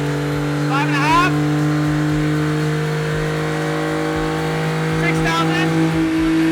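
A small car's engine holds a steady high-pitched drone on a dyno, loud and sustained with a rhythmic low thumping underneath, while people talk over it in two short bursts.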